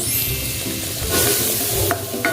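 Garlic and onion sizzling loudly in hot butter in a pan for squid ink pasta, a dense, steady frying hiss that swells as the onion goes in, with a couple of brief utensil clinks.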